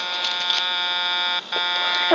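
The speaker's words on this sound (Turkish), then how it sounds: "bu arabaya bu korna sesi yakışıyor mu Allah aşkına?" A buzzing, nasal car horn from GTA 3 blares almost continuously, with a brief break, then sounds again.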